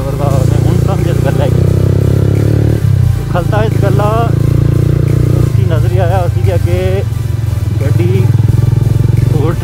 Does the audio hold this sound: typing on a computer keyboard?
no